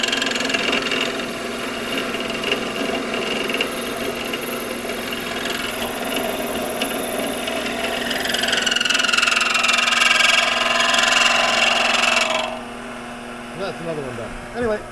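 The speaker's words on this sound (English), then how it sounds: "the lathe going in the background there, you can hear" A machinist's lathe runs steadily in a workshop, a continuous mechanical whir and hum with a brighter grinding tone rising in the middle before it cuts off near the end.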